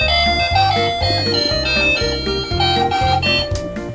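A toy Anpanman city bus with sound buttons plays a bright, bouncy electronic jingle, a loud, regular, looping tune with no talk.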